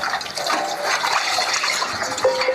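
Warm tap water runs steadily over a dirty cast iron skillet in a kitchen sink, a continuous close, fairly loud splashing rush with slight shifts as food bits are rubbed off.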